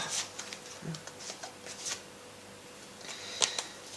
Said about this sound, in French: je vais brasser un peu plus.